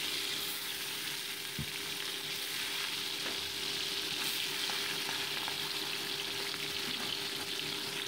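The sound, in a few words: bata fish frying in mustard oil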